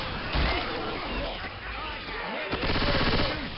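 Shotgun fire in the video game Left 4 Dead 2 comes in several loud, close blasts over dense game noise, with a voice talking over the action.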